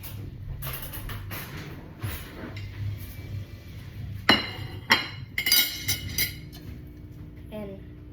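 Plate and fork handled in a home kitchen while making scrambled eggs: scattered light clinks of cutlery against a plate, with a cluster of sharper clatters midway, close and moderately loud over low room noise.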